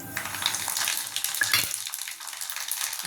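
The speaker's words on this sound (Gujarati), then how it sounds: "ગેસ બંધ કરી દઈશું અને હવે વઘાર અહીંયા કરી લઈશું. આ રાઈ અને જીરું છે" Mustard seeds and cumin tempering in hot oil for Kathiyawadi kadhi: a steady close sizzle with a few sharp crackles and pops, no voices.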